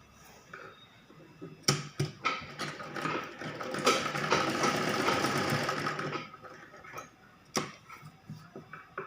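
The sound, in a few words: sewing machine stitching a baby frock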